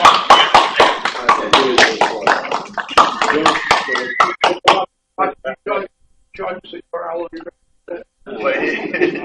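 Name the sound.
board meeting audience applauding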